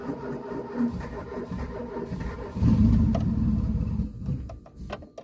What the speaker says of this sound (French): Bon là c'est démarrage éthanol et sans starter